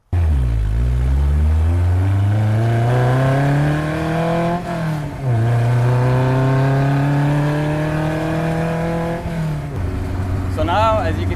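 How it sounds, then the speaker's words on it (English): A Ford Model A fitted with a swapped-in Honda S2000 engine accelerates hard, its loud, close, rising engine note climbing through gears with a brief dip at a shift midway, then revving up again to a high whine before easing off. "So now, as you can see, the car's driving way better."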